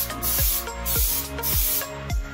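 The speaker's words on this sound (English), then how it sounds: "now we're gonna start spraying" Plasti Dip coating being spray-painted onto a 2018 Mustang GT, with four steady bursts of aerosol spray hiss in an even rhythm. Short, sharp clicks mark each stop between the bursts.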